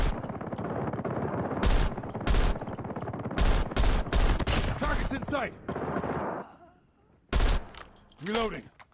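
M16 assault rifle fire in the mobile shooter Call of Duty: Mobile, loud rapid bursts and single cracks repeating through the clip, with echoing reports and a swooping whistle near the end under dense battle noise.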